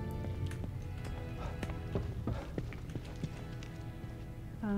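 Hooves clip-clop in a steady rhythm in the horror video game The Evil Within 2, moderately close and alone, with faint background noise.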